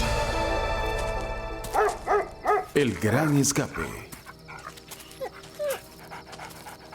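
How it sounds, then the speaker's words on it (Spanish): Several dogs bark in quick bursts, loud and close, with panting between, while a person speaks over part of it. "resonaban con los ladridos de los perros"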